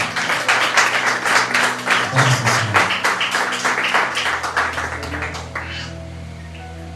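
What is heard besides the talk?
congregation applauding in church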